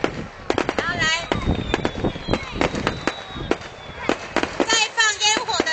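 Fireworks at a Mid-Autumn Festival evening gala in Baoshan Township, Taiwan, a rapid string of sharp pops and crackling bursts at moderate distance, some whistling, with a crowd and voices talking over them.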